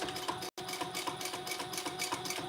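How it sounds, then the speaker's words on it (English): A sewing machine sews a row of stitching beside a square ring on a traveler pouch, a close rhythmic whirring chatter with a momentary dropout near the start. "Now I'm going to put 1 more row of stitching close here to my square ring"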